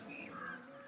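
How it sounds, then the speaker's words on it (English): Birds calling near a temple on a rooftop, a sustained crow-like caw with higher chirping, faint and distant over steady low background hum. "Here you can hear the birds and hear the nice music coming from the temple."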